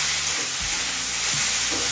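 Tomatoes fry in a pan for chicken rajma, giving a steady close sizzle with a soft stirring scrape partway through and no voices.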